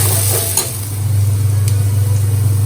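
Coriander and curry leaves sizzle steadily in a hot pan of oil, a close, continuous crackle broken by a couple of short scrapes of stirring, with no voices.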